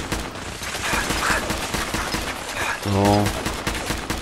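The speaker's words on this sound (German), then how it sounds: "Ich sehe nicht mal, auf was ich schieße." Gunfire in the video game Fallout 4 cracks out in rapid bursts of repeated shots, loud and continuous, while a player talks over the action.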